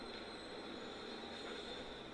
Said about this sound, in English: Are we on a subway?